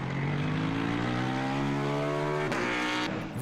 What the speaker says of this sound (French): Écoutez bien le son de la Porsche de tête.